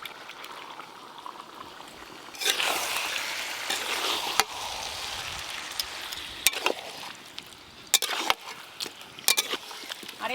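Fried chicken and spice paste with water sizzle and bubble in a pan, with scraping stirs and sharp clatters of a spoon against the pan over a steady frying hiss.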